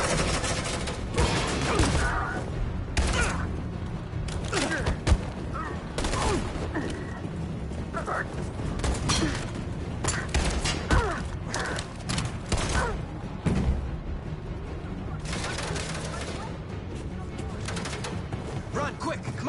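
Sustained suppressing gunfire from a Detroit: Become Human firefight crackles throughout as dense, rapid bursts, while voices shout over the shooting.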